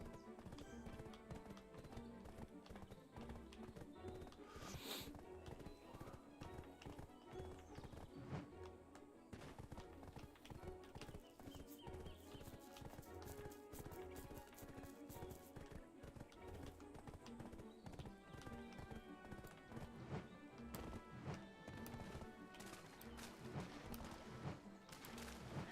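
Horse hooves clip-clop steadily in the Black Desert PC game, a continuous rhythmic clatter of footfalls mixed with dense game music and effects throughout, with an occasional brief whinny.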